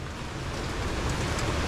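Rain falls in a steady, dense hiss with no breaks or voices.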